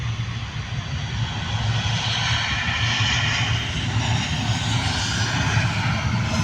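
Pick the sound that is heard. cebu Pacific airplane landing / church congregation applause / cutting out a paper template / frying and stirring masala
cebu Pacific airplane landing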